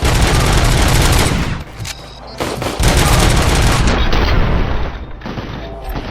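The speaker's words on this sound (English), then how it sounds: "not run towards them while I'm actively shooting them" Sustained automatic gunfire in RoboCop: Rogue City, loud and dense with continuous bursts over roughly six seconds, briefly dipping before resuming a heavy barrage.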